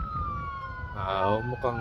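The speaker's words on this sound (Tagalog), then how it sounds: "may pulis sa background. O ambulance pala." Ambulance siren wailing in the background, a thin steady tone sliding slowly downward, heard briefly at a distance beneath a man's nearby speech.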